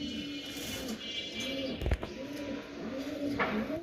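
A pair of racing pigeons gives soft, repeated throaty coos in a quiet indoor setting, with a brief knock partway through.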